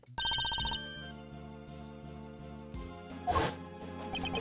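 In the Ace Attorney Investigations 2 video game, a synthesized phone ringtone chimes loudly at the start, followed by game music and a sharp crash-like sound effect.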